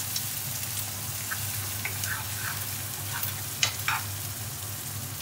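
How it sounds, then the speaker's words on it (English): Beaten eggs sizzle steadily in a hot pan while a utensil scrapes and stirs them in a few soft strokes, quiet and close with no talking. "I'm gonna just scramble those eggs now as they're cooking"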